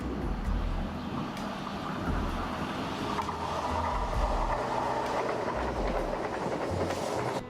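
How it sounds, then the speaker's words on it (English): A commuter train rumbles steadily along the rails at a station in Valencia, Spain, with continuous low clatter and wheel noise close by and no voices. "This station is primarily used by commuter trains."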